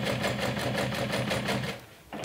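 A sewing machine stitches a bag in a steady, rapid rhythmic run that is loud and close, then stops abruptly near the end.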